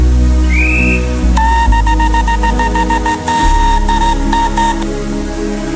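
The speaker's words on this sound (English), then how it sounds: "puffed off to a chorus of cheers and whistles" Steam engine whistles sound in a children's railway story, a rising toot followed by a series of repeated short whistle blasts over a steady background rumble, fairly loud and close.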